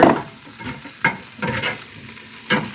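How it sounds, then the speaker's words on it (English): Meat pieces are stirred in a hot frying pan, with a sizzle under four or five distinct scraping strokes at irregular intervals, close up and without talk. "I'm going to throw these back in here. I'm going to give them a little stir,"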